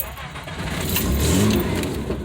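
A 1993 Nissan Pathfinder with 205,000 miles, a five-speed and a failed injector causing power loss, turns over and catches, its engine settling into a rough, loud idle close by with a low rumble throughout.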